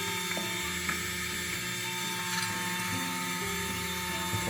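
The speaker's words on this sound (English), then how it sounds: "So this is settings 3. Turning on the grinder." A STARSEEKER coffee grinder runs at setting 3 with a steady whirring motor drone layered with gritty, ratcheting mechanical texture, heard close and continuous with no talking.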